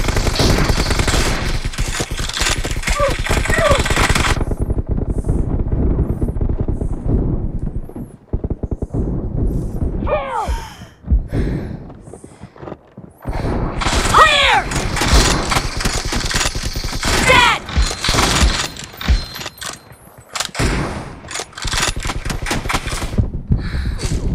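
PUBG gameplay gunfire on a Poco X3 Pro phone: loud, sustained rapid bursts of automatic fire, with brief pauses between volleys over about twenty-four seconds.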